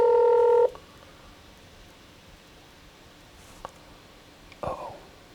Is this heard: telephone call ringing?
yes